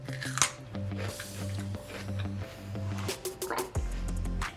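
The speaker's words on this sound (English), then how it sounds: "And I'm chewing on this for so long." Jalapeño pepper stuffed with cream cheese, seasoning and bell pepper being chewed close to the mic, with soft wet squishing and crunching bites that carry on steadily under a droning background hum.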